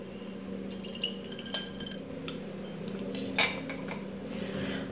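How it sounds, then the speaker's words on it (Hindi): Wheatgrass juice strained through a sieve into a glass, with light metallic clinks and taps of the strainer against glass over a low steady background hum. "तो अब एक छलनी लेकर इसको एक गिलास में छान लेंगे।"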